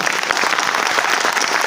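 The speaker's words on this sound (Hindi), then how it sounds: "मैं चाहूंगा कि चौधरी सर के लिए एक जोरदार ताली हो," Loud, dense applause from a large audience at a company anniversary event, continuous crowd clapping close by with no break.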